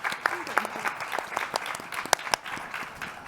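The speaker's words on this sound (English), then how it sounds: "Please give him a big round of applause." Audience applause for a speaker at a panel discussion on US election results, a dense burst of many hands clapping with sharp individual claps standing out, steady and fairly close throughout.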